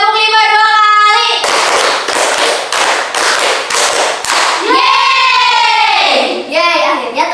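A group of students claps a fast rhythm of about six loud, crisp hand claps in a row, framed by someone speaking before and after.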